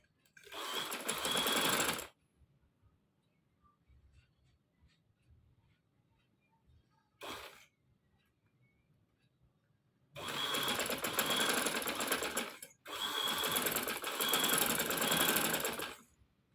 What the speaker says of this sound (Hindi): इसके ऊपर ही हमने इसको स्टिच लगानी है